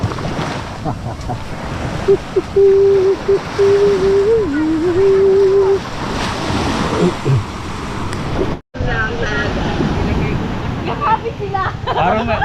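Choppy sea waves washing near a beach, a continuous rumbling surf under wind noise, with people talking over it and a brief dropout.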